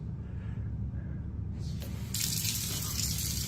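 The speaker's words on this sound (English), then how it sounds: "the kitchen faucet turns on by itself" A kitchen faucet turns on and runs steadily, the water's hiss starting abruptly partway through and then holding a constant close, broadband rush.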